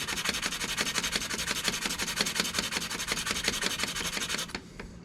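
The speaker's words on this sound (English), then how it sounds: "Just give it a little bit, just to kind of smooth the edge up a little bit." 320-grit sandpaper rubs back and forth against the edge of a coin ring in quick, rhythmic, close-up scratchy strokes that stop abruptly near the end.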